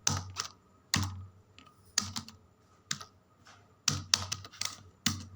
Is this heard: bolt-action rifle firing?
no